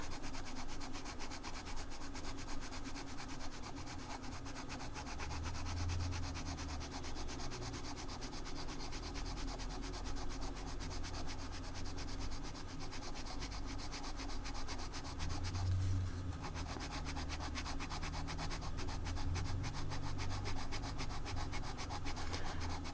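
Marco Raffiné colored pencils rubbed back and forth on paper make a soft, continuous scratchy rasp at close range, faint and steady throughout.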